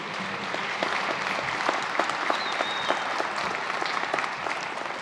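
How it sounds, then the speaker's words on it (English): An audience at a concert band performance applauds a sponsor, a full, steady wash of many hands clapping in a hall, sustained and even throughout with a few sharper individual claps standing out. "So give them a round of applause,"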